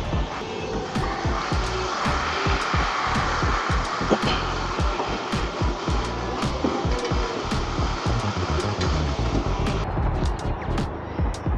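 Honda City turbo fitted with an HKS aftermarket exhaust, idling close by with a continuous throaty, pulsing drone and rapid low exhaust pulses, loud and steady throughout.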